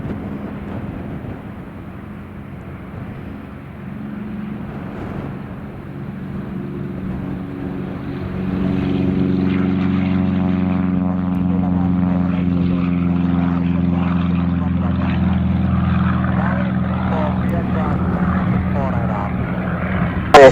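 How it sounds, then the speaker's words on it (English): An airplane takes off at Kagoshima airport in heavy wind, its engines building from a steady roar to a louder sustained drone, with radio talk between pilots and tower heard alongside. "Roger, clear for takeoff, runway 34"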